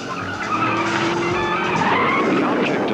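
Demolition derby cars skid and squeal on a dirt arena track, with tire screech and engine roar running continuously and loudly for the whole stretch, no clear crash impact standing out.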